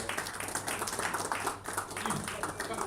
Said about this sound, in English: Please, another round of applause for our panel.